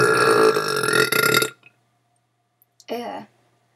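A very long, loud burp rumbles for about a second and a half, followed after a pause by a second, shorter burp; no talking is heard.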